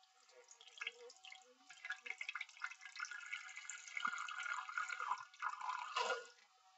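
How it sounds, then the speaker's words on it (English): Water sloshes faintly inside an emptied egg shell as it is shaken by hand, giving soft, irregular liquid splashes and drips that come in close, quiet bursts. "shake it up a little bit. And you can hear it, you know, how much water is in it"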